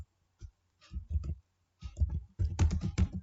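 Computer keyboard keys pressed in short bursts of clicky taps, close and fairly loud, with pauses between quick runs of keystrokes.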